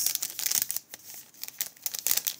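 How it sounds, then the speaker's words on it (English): Small plastic bags crinkle and rustle up close as jewelry orders such as bracelets are packed for shipping, in short irregular crackling bursts with brief pauses and no talking. "And then I do use my little plastic bags."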